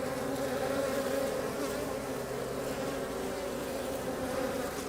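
Honeybees in a queenless hive with laying workers and scattered drone brood, a dense, continuous close-up buzzing hum that holds steady throughout with no talking.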